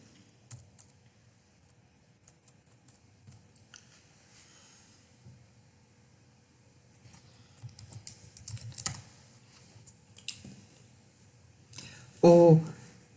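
Bursts of keyboard typing, quick clustered clicks coming and going over a quiet background, with a louder clatter near the end.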